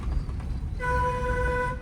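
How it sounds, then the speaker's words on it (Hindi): A car horn sounds as one long continuous tone over low engine and road rumble while a car moves slowly through a narrow lane with buffaloes ahead. "लॉन्ग हॉर्न प्रेस करिए, कंटिन्यू बजाते रहिए हॉर्न लगातार"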